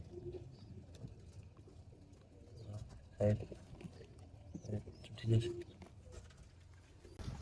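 Pigeons in a coop give a few low, throaty coos, separated by pauses and fairly faint, over a quiet murmur of a voice and background noise.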